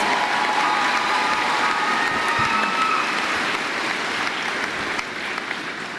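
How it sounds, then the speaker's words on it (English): At a high school graduation ceremony, a large audience applauds the college-degree graduates, steady crowd clapping at full volume that eases slightly toward the end. "a round of applause for our PHSC graduates"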